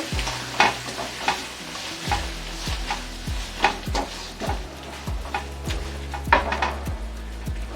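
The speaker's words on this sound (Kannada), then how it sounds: "ಈ ರೀತಿ ಹಾಕ್ಕೊಂಡು ಚೆನ್ನಾಗಿ ಮಿಕ್ಸ್ ಮಾಡ್ಕೋಬೇಕು" Grated raw mango is stirred into mango rice in a pan, with repeated scraping strokes of a spoon against the metal and a light sizzle in between, close and steady, with no talking.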